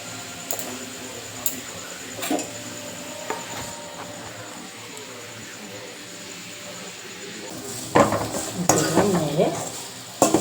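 Food being stirred in a pan, with faint scrapes and taps over a soft background hum, then a louder burst of clattering and scraping near the end.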